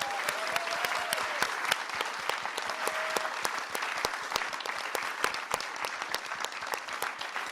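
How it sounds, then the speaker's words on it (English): Sustained applause from an audience at an evening civic dialogue event on cities, many hands clapping at moderate distance with distinct crisp claps over a dense patter. "I just want to encourage one more round of applause for this incredible dialogue tonight"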